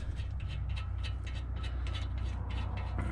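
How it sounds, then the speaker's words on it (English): A ratchet tightens the brake caliper bolts on a 2014 Ford F-150 FX4 truck, a steady run of rapid pawl clicks heard close over a constant low hum, with no voices. "we'll tighten the 2 bolts holding the piston caliper"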